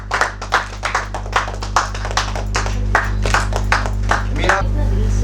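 Hands clap in a brisk, evenly spaced rhythm at a Hindi kavi sammelan poetry gathering while a garland is presented. The claps are crisp and close, with a low steady hum running underneath.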